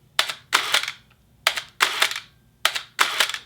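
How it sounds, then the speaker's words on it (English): A Pentax 645N medium format camera shutter opens at 1/4 second, then closes a moment later, followed by a short motorized whir of film advancing; the sequence repeats three times, close and clear. "So that last sound you hear is actually it, going to advance the film."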